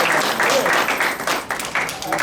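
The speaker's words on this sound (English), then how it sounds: "Let's give our sister another round of applause." An audience at a Black Women History Month lecture gives a round of applause, dense and continuous clapping from the crowd throughout, with voices mixed in underneath.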